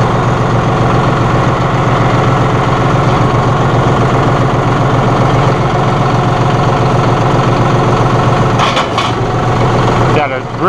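A 2016 John Deere 5045E utility tractor, 45 engine horsepower, running steadily as its high-lift loader is raised: a loud, continuous diesel drone close by, ending in a brief rattle near the end.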